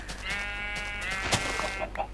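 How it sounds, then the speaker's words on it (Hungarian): A Minecraft sheep bleats once in a drawn-out, wavering tone, close and clear over faint background game sound. "Színes birka, színes birka!"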